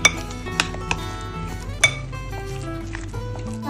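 A spoon stirs tuna with pepper powder and mayonnaise in a bowl, making a few sharp clinks against the bowl over a soft, sustained tonal background.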